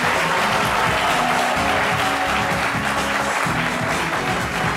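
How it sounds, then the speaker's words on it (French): A studio audience on a French-language midday TV show claps loudly and steadily for a contestant, a dense sustained round of applause with faint voices underneath. "On applaudit très fort pour Landro"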